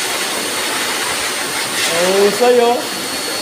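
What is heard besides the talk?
blower drying a dog during pet grooming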